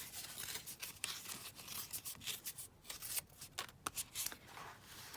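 A sheet of patterned craft paper is torn by hand in several quick ripping bursts, close and crisp, with short pauses between the tears.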